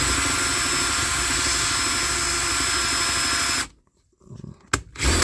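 An electric drill spins at high speed boring a 7.5 mm hole in a 103 SPX/RCX moped engine mount, a loud steady whine that cuts off abruptly, followed by a few brief bumps and handling noises.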